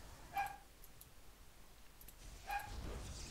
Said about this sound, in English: My dog slightly barking at probably someone walking outside